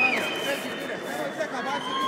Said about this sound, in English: Crowd is starting to get frustrated and whistling